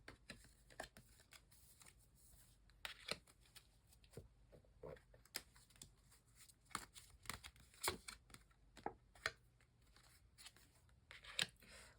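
Tarot cards are shuffled and drawn by hand, giving soft, close riffling and sharp flicks and snaps at an uneven pace for several seconds, faint and with no talking.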